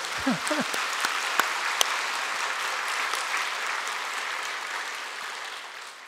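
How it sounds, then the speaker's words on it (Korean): A church congregation applauds new members during a Sunday service, a sustained wash of clapping that slowly tapers, with a few brief voices at the start. "우리 새가족들 박수 한번 했으면 좋겠어요."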